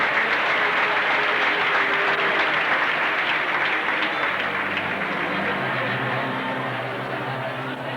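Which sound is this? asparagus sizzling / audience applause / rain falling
audience applause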